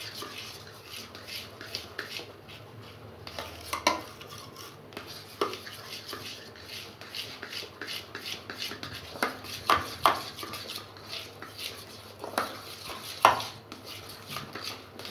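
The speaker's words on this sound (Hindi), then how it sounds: "इसको हमने तब तक मिक्स करना है जब तक इसकी मुकम्मल स्पूनिफिकेशन आपस में ना हो जाए" A spoon stirs and scrapes a transparent soap mixture in a pot as it saponifies, giving steady close-up scraping with irregular clinks against the metal and no talking.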